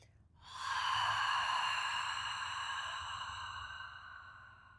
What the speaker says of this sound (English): you're going to fog up the mirror with your breath